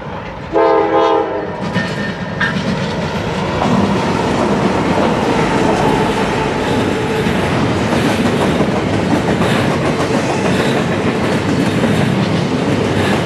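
A freight train pulled by a single locomotive passes close and loud, with a horn blast at the start giving way to a continuous roar of rumbling wheels and railcars.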